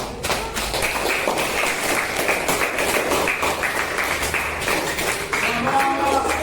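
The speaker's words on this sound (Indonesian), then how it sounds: "Ya, tepuk tangan." Classroom applause from students, a steady clatter of clapping hands filling the clip at moderate loudness, with a voice briefly audible near the end.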